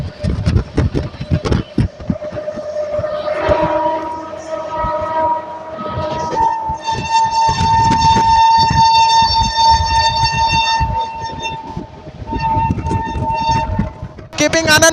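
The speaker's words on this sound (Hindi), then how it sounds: "सामने से आने वाली है न्यू दिल्ली गया महाबोधि एक्सप्रेस।" The New Delhi–Gaya Mahabodhi Express passes on an Indian railway line near Anand Vihar Terminal, with a loud sustained train horn over heavy rumbling and clattering wheels, close and continuous for most of the span, with talking over it.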